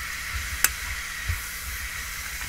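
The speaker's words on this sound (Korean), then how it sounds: "그렇게 생 찹쌀하고 굴까지 다 같이 볶는구나." Raw glutinous rice and oysters sizzle softly in sesame oil in a hot pan, with a couple of sharp scraping clacks of a utensil stirring it.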